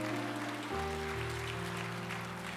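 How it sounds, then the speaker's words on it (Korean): A church congregation applauds long-serving members: steady, even clapping from many hands fills the hall at a fairly quiet, distant level, while a sustained organ chord sounds underneath. "40년 동안을 한결같이 교회를 섬기고 충성하신 근속자분들께 축복의 박수로 격려하시겠습니다."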